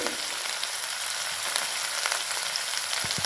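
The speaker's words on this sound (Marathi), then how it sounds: "तेल तापलं आहे त्याच्यामध्ये आपलं ठेचा टाकून द्यायचं इथं आपण त्याला म्हणजे ठेचा छान असा लालसर होईपर्यंत भाजून घ्यायचे" Thecha, crushed chilli paste, frying in hot oil, a continuous close crackling sizzle with a few faint scrapes near the end.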